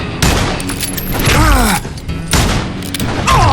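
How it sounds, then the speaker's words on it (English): Gunfire in the Western shooter Call of Juarez: Gunslinger, set at an outlaw camp near Parachute, Colorado: loud bursts of shots and booms with ricochet-like whines, dense and continuous across the scene, with a voice briefly heard amid the firing. "Who's shooting at me? We're under fire!"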